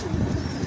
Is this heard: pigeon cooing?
yes